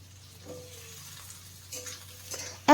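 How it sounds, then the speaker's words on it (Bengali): Thinly sliced potatoes and onions fry in a pan with a quiet, steady sizzle and a few soft stirring scrapes, ending in a sudden loud clank of utensil on pan. "এখন এই আলুটাকে দিয়ে ভালো করে পেঁয়াজ আর আলুটাকে ভেজে নিতে হবে"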